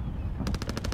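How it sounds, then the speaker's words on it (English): Rapid automatic gunfire in the video game Warzone, a steady burst of evenly spaced shots starting partway through and continuing loudly over low background game noise. "Oh, they're getting shot at."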